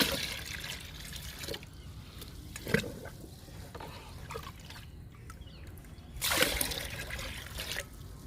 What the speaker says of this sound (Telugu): ఇప్పుడు లిక్విడ్ పోసుకుందాము ఈ బకెట్లలో